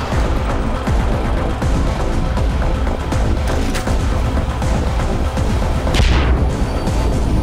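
Gas explosion blowing up an enemy during a temple fight in Far Cry 4, a loud continuous barrage of booms and crashing gunfire with a sharp burst near the end, no talk.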